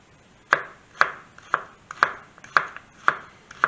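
Knife dicing food on a cutting board for cochinita pibil, seven crisp evenly spaced chops about half a second apart, close and clear with no talk.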